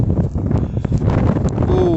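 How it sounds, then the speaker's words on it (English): Strong gusts buffet the microphone on an exposed hillside near a chambered cairn on the Isle of Arran, a loud, continuous rumbling roar with a voice briefly heard under it. "Oh, windy."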